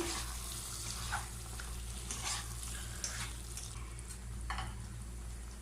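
Beef tikka masala gravy is stirred with fresh coriander and mint mixed in, producing a quiet, steady simmering sizzle with soft scraping strokes of the spoon at irregular intervals.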